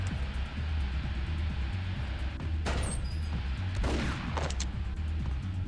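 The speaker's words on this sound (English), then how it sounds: "Oh, who's shooting me?" Gunfire in a video game: a few sharp shots and bursts crack out over a constant low rumbling background, with two or three clusters of reports of moderate loudness and no voices.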